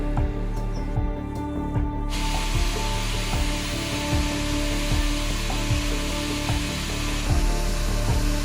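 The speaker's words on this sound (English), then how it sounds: "he's grinding off all of the stainless material that this blade is clad with" Angle grinder stripping the stainless steel cladding from a forge-welded san mai knife blade, a loud steady grinding whine with regular pulsing passes and no talking.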